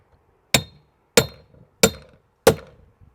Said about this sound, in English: Very sophisticated hammer here.